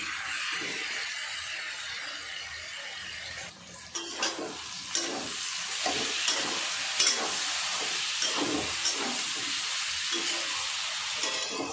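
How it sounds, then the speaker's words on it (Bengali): Potatoes stir-fried with spices in a pan for a fish curry: a steady frying hiss under rhythmic scraping and turning of a spatula, close up and continuous, with no voices. "আলুটাও মশলার সাথে ভালো করে কষে নেব"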